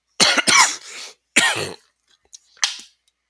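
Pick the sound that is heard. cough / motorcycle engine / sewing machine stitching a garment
cough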